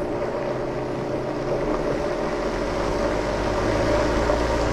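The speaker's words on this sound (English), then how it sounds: "It's embarrassing to be blending live and not have it work." Blender running continuously on a thick puree of Russula brevipes mushrooms for vegan hummus, a steady loud motor whir and churning drone with no pauses, no voices over it.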